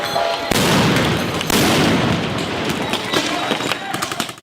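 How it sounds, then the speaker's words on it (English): Loud flashbang grenade blasts set off by federal officers at a Portland protest, two sharp booms about a second apart followed by rumbling crowd noise and scattered smaller pops, with voices in the mix. "flashbangs from the feds are way more powerful and damaging than the ones Portland police use"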